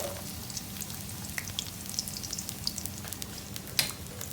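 Garlic and onion fry in oil for egg fried rice, giving a soft, steady crackling sizzle with scattered pops, fairly quiet and close, with no voices.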